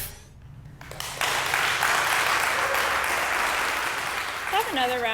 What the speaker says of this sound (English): Another round of applause for our amazing cast.